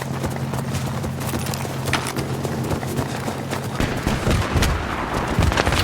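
Mounted machine gun fire in Battlefield 3, loud rapid rattling bursts in the middle distance, building into dense overlapping gunfire toward the end over a low rumbling background.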